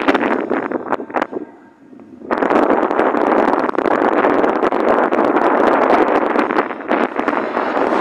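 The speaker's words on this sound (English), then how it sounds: "Wind's blowing right up against me." Strong wind buffets a handheld microphone outdoors by a biker path, a loud continuous roar that drops briefly and then returns at full force.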